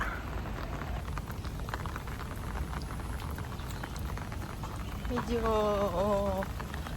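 Steady rain falls in Hong Kong on an overcast morning, a dense continuous hiss and patter that holds at an even level, with a short wavering tonal sound rising over it near the end.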